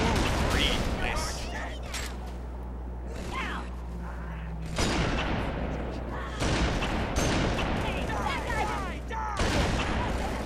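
Halo 3 gunfire on the Ark level, a dense run of repeated shots and battle noise over a steady low hum, with a player talking throughout.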